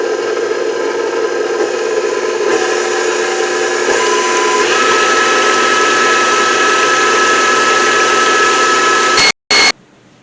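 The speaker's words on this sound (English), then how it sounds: "Now you're going to do this on high, but I have the KitchenAid 600" A KitchenAid 600 stand mixer running on high while whipping for a banana cream pie, a loud steady whirring motor drone with a bright whine that carries on unbroken, then cuts off briefly near the end.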